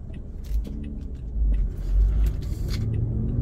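A car drives along a road on a driving-test practice route near Port Union, with a steady, close engine and tyre rumble that swells slightly midway. No one speaks.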